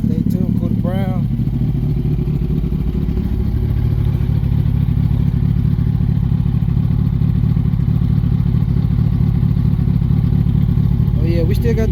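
A 2006 Yamaha R1 sport bike, rebuilt after a wreck, roars steadily while being ridden, the engine pitch rising early on and then holding, with wind rush and a brief voice under the engine noise.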